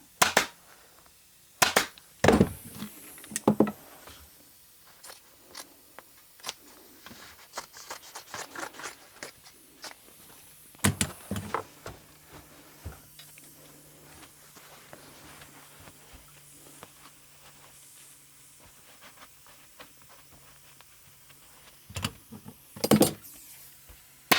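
A staple gun drives staples through fabric into a dining chair seat during reupholstering: sharp isolated snaps spaced irregularly, with quieter handling and rustling between shots, close by.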